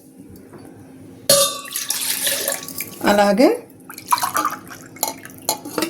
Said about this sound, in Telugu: 3 గ్లాసులు కూల్ వాటర్ వేసుకోవాలండి